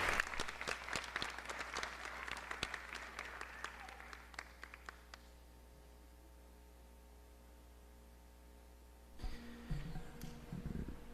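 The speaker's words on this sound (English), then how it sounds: "let's give him a big round of applause, Mr. McCann." An audience applauds at a public school district event, with dense clapping that thins to scattered claps and dies away after about five seconds over a steady electrical hum, before a voice starts speaking.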